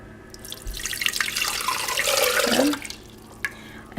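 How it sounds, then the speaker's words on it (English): Two cups of water pour from a container into a blender jar, a splashing stream that builds for a few seconds and then stops, with a brief clink after, no talking. "we have our 2 cups of water, and I'm just going to add this to the blender"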